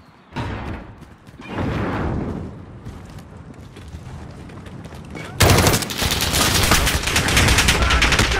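Video game gunfire at a construction site: scattered shots and bursts early on, then from about two-thirds through a loud, continuous rapid-fire machine-gun volley that runs to the end.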